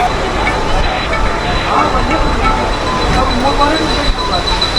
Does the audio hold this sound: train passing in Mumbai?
yes